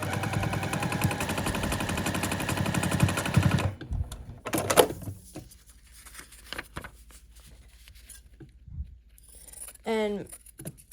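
A sewing machine stitches a seam on a paper-pieced quilt block, a rapid steady rattling run of about four seconds, then stops, followed by soft handling noises and a brief voice.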